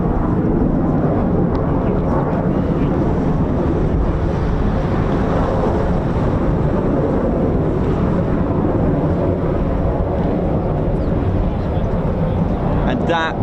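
A Eurofighter Typhoon FGR4 jet roars at RAF Coningsby, a broad, loud, continuous rumbling thrust with wind buffeting the microphone throughout.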